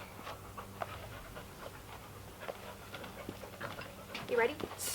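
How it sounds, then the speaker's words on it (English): A small pet dog pants steadily up close with quick rhythmic breaths, faint against background room noise, with people talking softly nearby. "He's just my baby dog."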